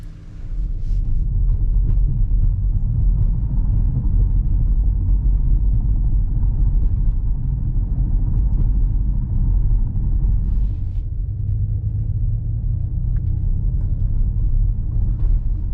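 Interior cabin sound of a 2023 Ford Mustang Mach-E GT electric car driving at night, a loud steady low road rumble and tire drone with little change, no talking.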